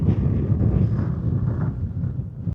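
Strong wind in the Scottish Highlands gusting across the microphone, a heavy low rumble that stays loud and continuous before stopping abruptly.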